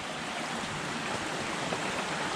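Mountain stream flowing beside a trail, a steady, dense rush of water heard close and evenly throughout, with no voices.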